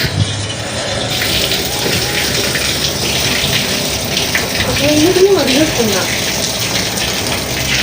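Water gushes steadily into a jacuzzi tub at an Airbnb, a loud continuous rush of splashing flow heard up close, with a brief voice-like warble partway through.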